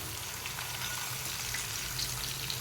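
Cumin seeds and asafoetida crackling in hot oil, a dense continuous sizzle with fine popping, fairly close and steady across the short stretch.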